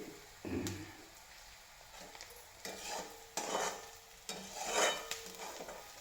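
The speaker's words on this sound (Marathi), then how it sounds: "कांदा परतवून घ्यायचा चाललेला आहे वर खाली वर खाली सगळा कांदा भाजला पाहिजे" Chopped onion being stirred and sautéed over a high flame in a pan for a rustic brinjal bharit, with bursts of scraping and sizzling that rise and fall in rhythmic sweeps, close and fairly loud, with no talking.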